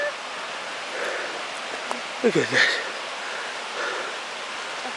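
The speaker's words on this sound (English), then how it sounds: "The creek right there." A creek flows along a canyon hiking trail as a constant rushing hiss, moderately loud and steady, with a short spoken remark briefly breaking in partway through.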